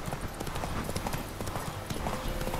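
Horse hooves gallop at a steady rhythmic clip-clop in The Witcher 3 while a rider heads toward a burning Crow's Perch, with dense game ambience and fire crackle underneath.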